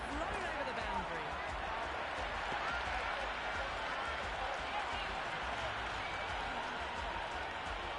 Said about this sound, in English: The crowd are loving every minute of this match